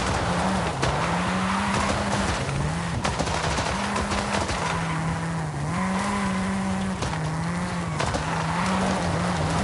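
Car fitted with rally tyres sliding on a road surface in the racing game Forza Horizon 5, a loud steady engine drone with wavering pitch and constant tyre noise running throughout, close and continuous.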